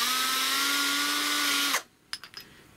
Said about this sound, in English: Let's see if we've got a bigger drill bit to hand.